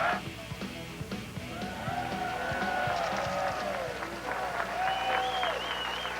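A large crowd at a 2005 PBA bowling tournament final in Atlanta applauds and cheers steadily, with dense clapping, whistles and shouts rising together into a sustained roar.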